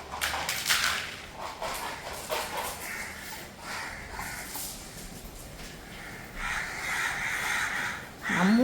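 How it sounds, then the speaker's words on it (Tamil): Crows caw repeatedly outdoors near a home while being fed dog kibble, harsh calls coming in bursts, fairly close, over steady background noise. "நம்மூர் காக்கா தான்டா பெடிகிரி சாப்பிடும்."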